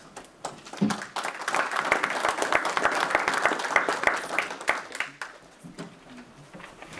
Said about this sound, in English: he got applause